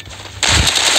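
Machine gun fires in a continuous loud burst during an online shooter game, starting abruptly after a quieter opening and running to the end.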